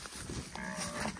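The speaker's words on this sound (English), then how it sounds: "these cows want to follow me to go into a new pasture" A cow moos in a tropical ranch pasture, one drawn-out low call rising and falling, fairly close amid faint outdoor background.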